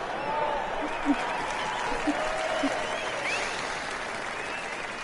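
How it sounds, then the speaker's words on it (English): Crowd applause in a golf video game set in Scotland, a steady spread of clapping that holds for the whole stretch, moderately loud, with a few brief whistles or cheers rising out of it and no talk. "even the Scottish dude is cheering me on"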